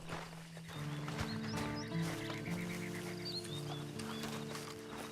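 A horse in the video game Red Dead Redemption 2 Online gives a faint whinny over soft, steady hoof clip-clops, with a low background hum throughout.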